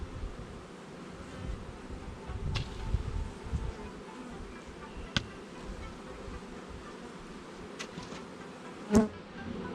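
Bees drone steadily around a hive being smoked in the evening, a close continuous buzz broken by a few sharp clicks and one louder tap near the end.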